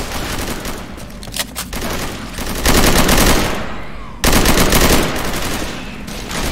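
Rapid bursts of automatic gunfire in the zombie shooter Left 4 Dead 2, loud and close, with sustained volleys broken by a brief pause before a fresh burst; a voice briefly speaks over the shooting.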